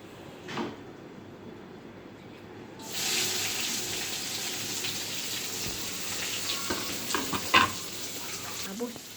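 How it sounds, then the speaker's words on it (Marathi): Chopped onion hits a pan with curry leaves after a near-silent start and breaks into a loud, steady sizzle. A spoon scrapes and clicks intermittently as the onion is stirred and fried. "आता आपण मस्त कांदा भाजून घेणार आहे"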